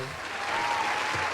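A quick burst of steady audience clapping greets the winner at an informal awards show, even and fairly close, with a voice faintly mixed in underneath.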